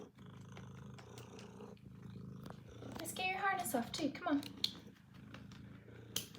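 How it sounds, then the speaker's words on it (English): A pet cat purrs softly near a person who talks to it while removing its harness, the low rumble running under the speech. "Listen to that purr."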